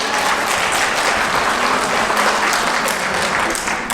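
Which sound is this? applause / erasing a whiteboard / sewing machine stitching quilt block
applause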